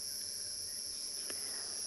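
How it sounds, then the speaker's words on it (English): Crickets and cicadas in the South African bush during an afternoon safari keep up a steady, high, continuous shrill drone, faint and even throughout with no talking. "the wonderful sounds of the bush, the cicadas, the crickets"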